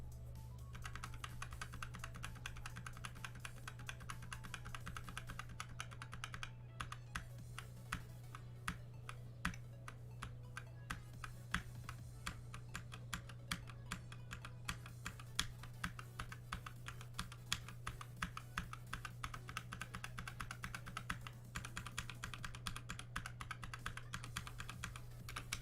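Keys on a budget mechanical keyboard fitted with Jelly Blue and Box Royal switches click in rapid, uneven typing bursts, crisp and fairly close, over a steady low electrical hum.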